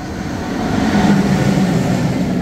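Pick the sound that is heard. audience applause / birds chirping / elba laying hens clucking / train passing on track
train passing on track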